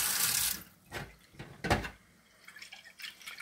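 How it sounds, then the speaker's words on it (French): Tap water poured into a glass sprouting jar, a brief splashing burst at the start followed by short intermittent trickles and drips, close and fairly quiet. "Vous mettez de l'eau."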